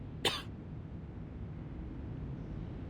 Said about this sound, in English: And now I cough and splutter just like it does.